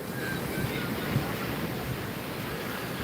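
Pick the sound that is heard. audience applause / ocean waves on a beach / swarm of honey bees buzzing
ocean waves on a beach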